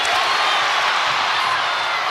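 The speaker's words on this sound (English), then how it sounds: "And the crowd really starting to get noisy inside the building." Crowd noise inside a basketball arena during an NC State Wolfpack home game against North Carolina, a loud, steady roar of cheering and whooping that holds at full volume throughout, with no clear voice on top.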